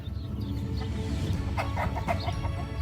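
Chickens cluck in short bursts, close by, over a steady low background hum.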